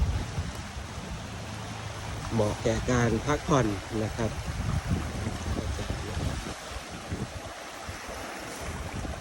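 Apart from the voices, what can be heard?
small waves lapping on a sandy beach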